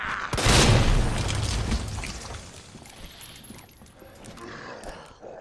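A grenade goes off in the video game Resident Evil 2: a single loud, deep boom that rolls out and decays over a few seconds into a low rumble.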